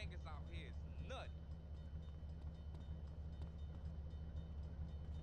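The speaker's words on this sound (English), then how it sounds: "And the L train in Portland works as well." The L train in Portland in the video game GTA Underground rumbles along continuously at low volume, a steady rolling rail drone with faint clatter, with a voice speaking briefly at the start.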